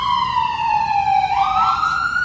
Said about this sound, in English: A lot of sirens. Loud ones.